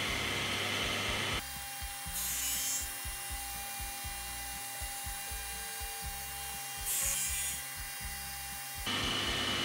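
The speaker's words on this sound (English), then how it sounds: "I'll put the dust extractor on." A dust extractor runs in a woodworking workshop, a steady loud roar at the start and end, with a quieter stretch of mechanical clicking and humming in between. No one speaks.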